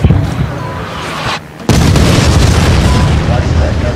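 Artillery fire mission in the Medal of Honor 2010 multiplayer shooter: a heavy booming explosion, a brief lull, then another loud blast whose rumbling roar fills the rest of the stretch, close and powerful.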